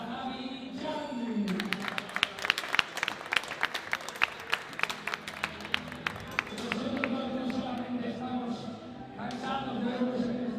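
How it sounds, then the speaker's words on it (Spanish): Audience applause at a national foosball tournament, a burst of crowd clapping that swells, holds as rapid dense claps and fades, with voices talking over the start and end. "Un aplauso para Javi Jan"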